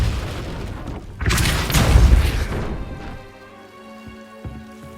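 Depulso spell cast in the Hogwarts Legacy video game: a loud whooshing, crashing burst that swells for about two seconds, then fades into a lingering tonal ring with a few soft knocks.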